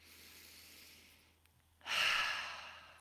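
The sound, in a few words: deep breathing during tapping exercise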